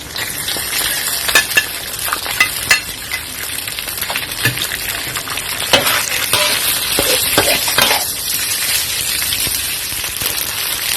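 Macaroni being stir-fried in a pan for a spicy Thai-style dish with sausage, a steady sizzle broken by scraping stirs of the spatula, close and continuous with no voices.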